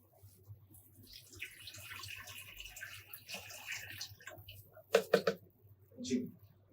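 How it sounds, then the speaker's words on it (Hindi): Distilled water pours into a large cosmetics mixture batch as a soft, steady splashing stream under people talking, followed by a few sharp clatters and knocks. "ये डिस्टिल्ड वाटर है, ये हम डालेंगे।"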